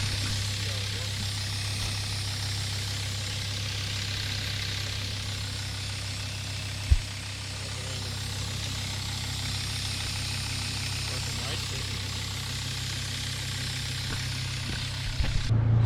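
A 2006 Sprinter van engine idling after a water pump replacement, a low steady rumble heard close by, broken by one sharp click partway through and a brief louder rise at the end.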